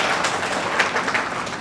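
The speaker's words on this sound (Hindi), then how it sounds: "उनकी तारीफ और तालियों के लिए हमें ज़ोरदार तालियों के लिए लगानी चाहिए" An audience applauds at a Silver Jubilee celebration marking 25 years of knee replacements. Steady, moderately loud clapping fills the whole stretch, with no voices over it.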